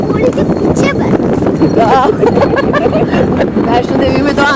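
A horse pulling a cart clip-clops along at a brisk pace, its hooves knocking rhythmically and close by. The hoofbeats run under nearly constant chatter from riders, and the cart rattles along with them.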